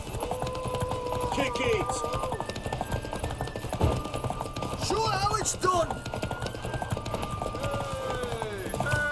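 Horse hooves clip-clop steadily and fairly loudly in The Witcher 3: Wild Hunt, with a few snorts and harness jangles, while characters shout encouragement over them.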